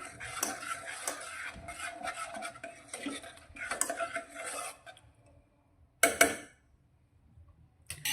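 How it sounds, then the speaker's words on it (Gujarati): Long beans curry with added water is stirred in a pressure cooker pot: about five seconds of busy metallic stirring and clinking up close, then near silence broken by two short clanks. "હવે સારી રીતે મિક્સ કરી લઈશું."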